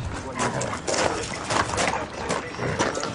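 Dogs at a punk squat in France, where about twenty people live with as many dogs, barking and whimpering amid a dense wash of background noise and voices.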